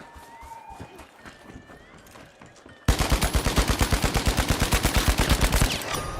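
Rapid automatic gunfire from a weapon in the video game Marathon, starting abruptly partway through as a loud, steady stream of close, evenly spaced shots after a quieter stretch of game ambience.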